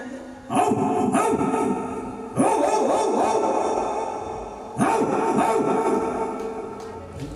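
A mimicry performer imitating a dog's barking, three loud, sustained vocal barking bursts at close range, each fading out before the next.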